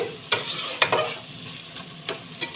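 Spinach being stirred and fried in a pan for an egg curry: a spatula scrapes in several distinct strokes over a soft, steady sizzle, close by.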